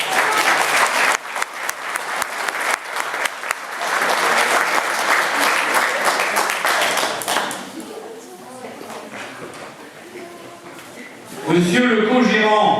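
Audience applauding loudly at a staged trial event, dense clapping for about seven seconds that fades into scattered claps and talk, before a voice speaks up clearly at the end.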